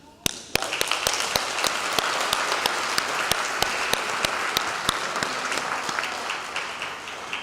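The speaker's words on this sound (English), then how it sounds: "applaud our graduates" A crowd applauds the graduating class of 2023 at a Thornton High School graduation ceremony, steady dense clapping filling the space with a few sharp, louder claps standing out near the mic.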